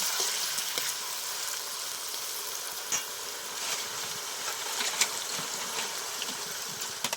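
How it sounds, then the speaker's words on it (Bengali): Shredded potatoes fry in hot oil with a steady, soft sizzle and occasional crackles and pops, fairly quiet and close, with no voices. "তেলের মধ্যে আলু দিয়ে দিয়েছি, এবার হালকা লাল করে আমি ভেজে নেব।"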